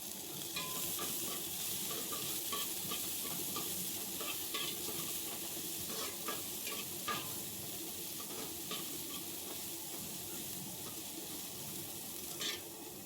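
Chopped tomatoes sizzle with onions and drumstick flowers in a hot pan, a steady close frying hiss broken by repeated scraping strokes of a stirring spoon, no one talking.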